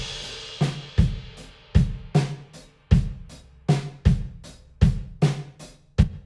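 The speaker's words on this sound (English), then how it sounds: "what I'm working with is this Studio A preset for the room" A drum kit played with a Studio A room reverb preset: a steady groove of punchy kick and snare hits with cymbals, each hit trailing off into a short room tail, close and clear with no voices.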